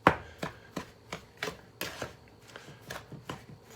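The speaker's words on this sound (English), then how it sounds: "Take a spoon, mix it up a bit." A spoon works sugar and butter together in a bowl, making a steady series of soft scraping strokes, about two per second, close and fairly quiet with no talking.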